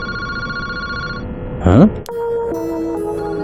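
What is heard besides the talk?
telephone ringing in the video game Paranormasight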